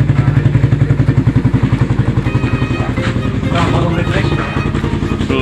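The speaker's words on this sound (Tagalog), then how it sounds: "sa wakas is umandar na nga yung motor ni Tropa" A Raider 150 motorcycle engine runs after being started, its rapid even chugging putter loud and close, with some clattering and thumps over the idle.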